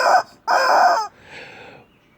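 Chickens squawk and cluck in annoyance: two loud, close calls, the second longer, followed by a fainter trailing cluck.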